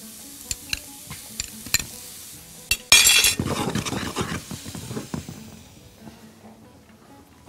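Butter with chopped onion hits a hot pan, starting with a sharp burst of loud sizzling that settles into steady frying crackle. A few utensil clinks come before it, and the sound fades gradually toward the end.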